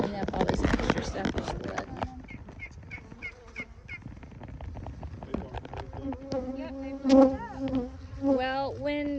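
Honeybees buzzing around hives during winter preparation at a bee club apiary, a steady insect drone with rattles and knocks of hive boxes, while people talk nearby throughout.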